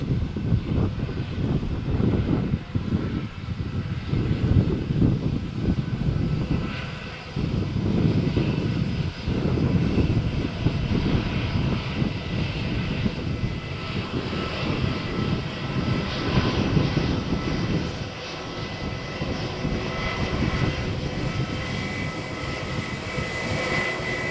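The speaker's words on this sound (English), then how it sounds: "The Europe flight to Madrid is now taxiing for takeoff." An airliner taxis for takeoff at Malaga Airport on a stormy morning, its jet engines giving a loud, steady roar that holds throughout, with gusting wind underneath.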